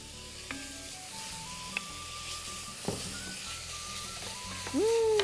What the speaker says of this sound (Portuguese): agora eu vou entrar com a cebola, o alho, a batata